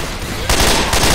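Loud, rapid automatic gunfire from Left 4 Dead 2 erupts abruptly after a short lull of low background noise, then rattles steadily to the end with a brief dip and resumption.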